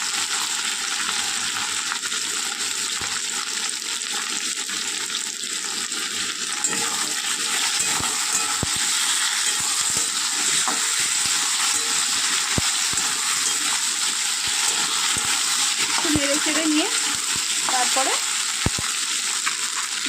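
Chopped taro, potato, jackfruit seeds and Malabar spinach stems fry with ginger garlic paste in a pan, a loud steady sizzle broken by occasional scraping stirs and light clinks.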